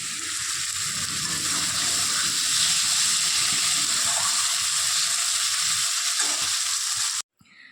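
Potatoes, onion and spices sauté in a pan, giving a loud, constant broadband sizzle that holds steady for about seven seconds before cutting off abruptly near the end.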